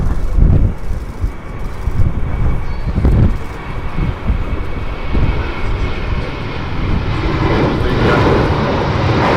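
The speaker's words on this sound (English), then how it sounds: "And then we have another departure, taxi down to the end of the runway, an Airbus A320 Series 200, operating EasyJet Flight 2141 to Belfast." An EasyJet Airbus A320-200 jet taxis for departure at Manchester, its engines giving a steady, fairly loud roar with wind buffeting the microphone throughout, no voices.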